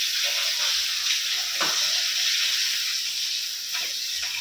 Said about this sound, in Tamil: அப்புறம் வந்து ஃபிஷ் ஃப்ரை, அது ஃப்ரை பண்ணிகிட்டு இருக்கேன்.